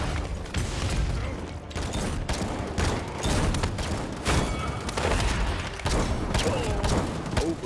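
Gunfire in the video game Paladins, loud rapid bursts of shots and booms with brief pauses between volleys, dense and continuous with mechanical clanks mixed in and a voice talking faintly underneath.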